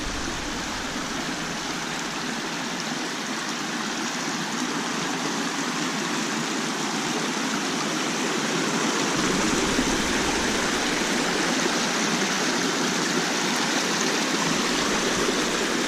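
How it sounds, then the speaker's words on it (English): An inner city creek flows steadily, a constant broad rushing and burbling of water that stays close and even for the whole stretch, with no voices over it. "Let's go get up in the main creek that's still flowing pretty good and look around."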